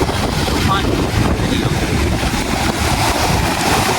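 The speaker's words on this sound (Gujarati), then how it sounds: "આજે પવન બહુ છે કે નહીં?" Strong wind blows across the microphone at Khukri beach in Diu, a loud, steady roar with surf faintly blended underneath and no clear speech.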